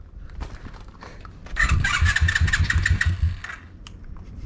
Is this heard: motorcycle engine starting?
yes